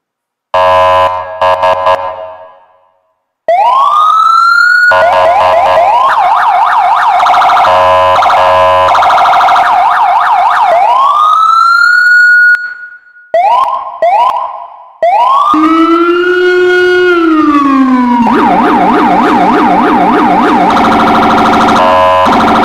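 Loud electronic emergency vehicle sirens from a Unity game asset demo cycle through wails, yelps and rapid warbles, switching patterns with brief gaps, synthetic and continuous.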